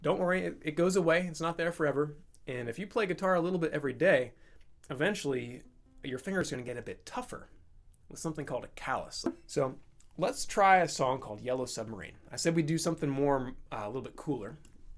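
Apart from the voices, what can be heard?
No distinct noise like a dog, phone or traffic.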